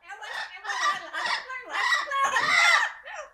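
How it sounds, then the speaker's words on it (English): A flock of parrots calls loudly nearby in a run of raucous, overlapping squawks that is continuous and close. "The birds are here!"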